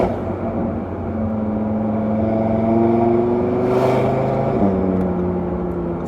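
An Audi RS3 exhaust in its loud individual mode, droning steadily with a rising engine note that climbs, then drops briefly near the end before holding again, fairly loud and close with no talking.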